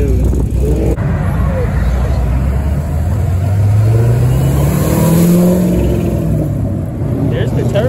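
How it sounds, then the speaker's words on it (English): A Corvette accelerates past at a cars-and-coffee meet, its engine note rising steadily in pitch over a rumbling base, with background chatter throughout. "There's the turbo."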